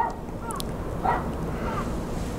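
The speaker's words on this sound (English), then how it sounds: "You can hear the crows." Crows caw a few times at night, faint and some distance off, over a low steady background hum.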